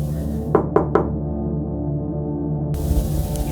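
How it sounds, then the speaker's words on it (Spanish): Three quick, sharp knocks on a door in close succession, fairly near, followed by quiet background hiss. "Entonces escuchamos 3 golpes en la puerta."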